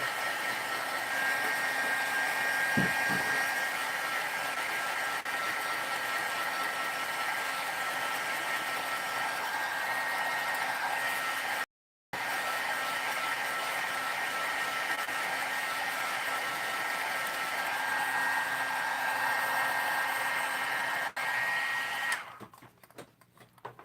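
A hair dryer blows steadily on wet paint during a live painting session. It gives a loud, constant whooshing whir that runs almost the whole time, drops out briefly near the middle, then sputters and stops at the end.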